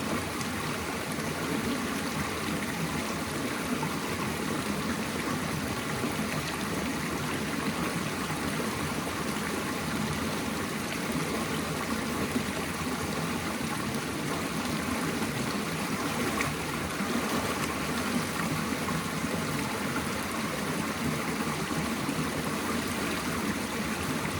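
A strong, steady rush of an icy river stream flowing at close range, a dense unbroken wash of water noise with no voices over it.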